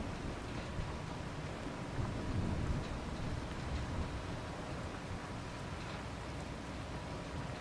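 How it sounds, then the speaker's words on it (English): Steady rain hisses in the background, with a faint low thunder rumble rolling beneath it, distant and continuous and free of speech. "Oh, it started to rain,"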